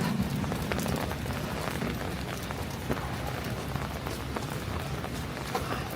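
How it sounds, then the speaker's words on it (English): Rain falls steadily on a city street on the Upper West Side of New York in November, a constant near hiss and patter throughout with no voices. "Rain didn't really let up at all on us"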